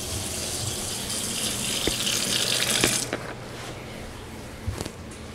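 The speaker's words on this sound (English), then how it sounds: "I want to make sure this trap here fills up with water." Water runs from a faucet into an under-mount sink set in granite, filling the drain trap with a steady loud gush that cuts off partway, leaving fainter drips, knocks and trickling nearby.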